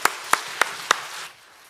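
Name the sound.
congregation applauding to welcome pastor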